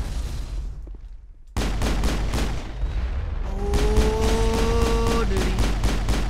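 Rapid weapon fire in Mass Effect rattles in fast, evenly spaced bursts after a brief quiet stretch, loud and close, with tonal sci-fi whines rising over the later shots.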